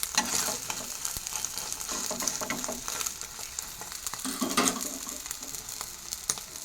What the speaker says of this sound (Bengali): ডিমটা কিন্তু আবার প্রায় ভাজা হয়ে গেছে